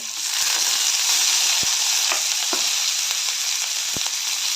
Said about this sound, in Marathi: हे सर्व तेलामध्ये चांगलं परतून घेऊया